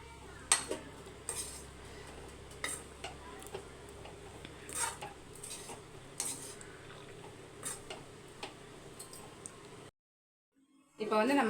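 Spoon working through capsicum rice in a pot, with soft repeated scrapes and clinks of metal on the vessel at an uneven rhythm, close by. The sound cuts to a brief silence near the end.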